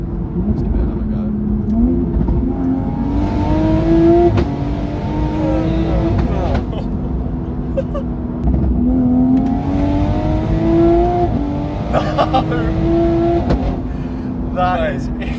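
Top-mount turbo Toyota A90 Supra accelerating hard, its engine loud and close as revs climb and drop through sharp, rapid upshifts, with turbo whoosh and people talking over the engine.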